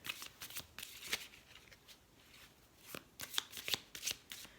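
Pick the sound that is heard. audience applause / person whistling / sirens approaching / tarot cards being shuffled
tarot cards being shuffled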